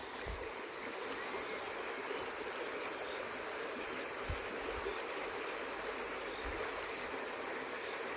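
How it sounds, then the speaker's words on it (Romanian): Steady rushing of a stream flowing over rocks, continuous and close, with no voices. "Vom opri un pic ca să se audă apa cum curge"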